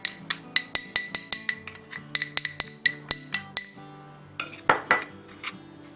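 Venison stew ingredients being stirred in a metal pot for an Irish stew, a run of sharp, close clinks and knocks of a utensil against the pot in quick irregular rhythm, then a brief pause and a few more clanks.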